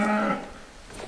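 A family milk cow lets out a loud, close moo with a rich harmonic tone that fades after about a third of a second, leaving quieter farmyard background.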